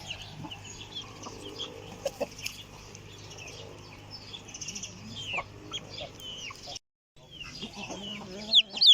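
Several chickens and newly hatched chicks clucking and chirping close by in a village, with bursts of louder clucks and soft peeping, a brief silent gap near the end.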